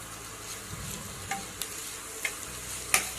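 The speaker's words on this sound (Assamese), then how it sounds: "এতিয়া পিঁয়াজখিনি অলপ ভাজি ল'ম।" Onions frying in hot oil in a kadai, a steady close sizzle with a few sharp clicks and scrapes of a spoon stirring now and then.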